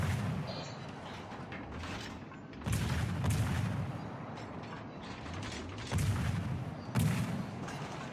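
Naval gunfire in a video game, with shots landing around the Fubuki destroyer: heavy booming impacts at about 2.7, 6 and 7 seconds rise over a constant mechanical rumble and clatter.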